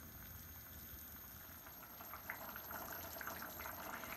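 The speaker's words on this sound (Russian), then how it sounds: "Добавили кипятка. И даем покипеть минут" Water simmering and bubbling in a kazan of beef pilaf after boiling water is added, a steady close hiss with small popping bubbles that grow livelier toward the end.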